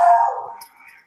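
A dog gives a single loud, close bark that trails off into a brief whimpering tail, heard alone without talk.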